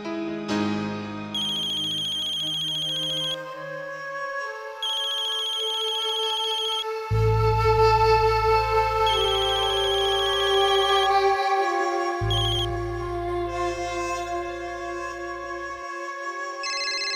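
A phone ringtone plays a bright, repeating electronic melody, loud and close, with deep sustained bass notes joining partway through and no talking.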